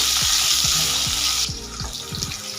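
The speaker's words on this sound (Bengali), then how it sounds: "আলুগুলো তেলের মধ্যে দিয়ে দেব। আলুগুলো হালকা ভেজে নেব।" Medium potato strips, cut lengthwise, go into hot oil for a light fry, giving a steady dense hiss with a few clunks; the hiss softens midway as scattered knocks continue.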